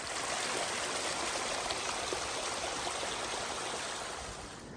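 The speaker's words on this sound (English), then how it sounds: "Beautiful waterfall back there." Steady broadband rush of a waterfall on the North Puyallup River, fed by glacier melt in an alpine setting, heard as a continuous roar from a moderate distance with no voices.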